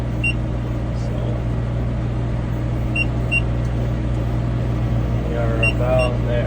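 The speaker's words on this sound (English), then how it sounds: "That beeping is just letting me know that we're getting close to a full bale." A hay baler's warning beeper signals that the bale is nearly full: short, high electronic beeps repeat at intervals over the loud, steady drone of the tractor and baler, with faint speech in the background.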